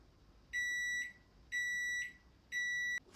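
A Black+Decker microwave oven timer beeps three times, even electronic tones about half a second long spaced a second apart, close and clear over a quiet room.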